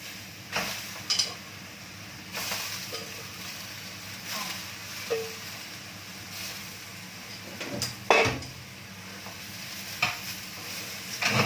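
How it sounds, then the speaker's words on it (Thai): Vegetables being stir-fried in a pan for Thai suki, with a quiet sizzle under repeated scraping and clattering stirring strokes that come in irregular bursts, close and fairly soft. "ใส่ผักค่ะ ใส่ผักลงไปผัด"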